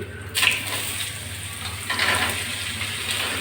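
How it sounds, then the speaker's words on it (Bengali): Beetroot dropped into white oil tempered with mustard seeds, a loud sizzle as it hits the hot oil, then a steady hiss of frying with a second flare-up partway through. "এক চামচের একটু কম সর্ষে সাদা তেলের ভিতর ফোড়ন দিয়ে দিলাম এবার আমি বিটটা দিয়ে দিচ্ছি"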